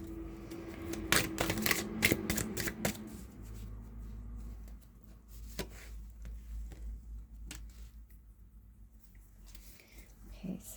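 Tarot cards being shuffled in several quick, close riffling bursts early on, followed by softer handling sounds and quiet rustling.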